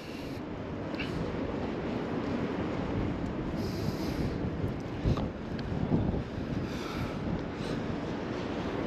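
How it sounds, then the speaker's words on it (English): Strong wind buffeting an outdoor microphone near the BBC buildings at Media City, a constant loud rumbling roar with occasional gusts and faint background noise. "But it is very windy"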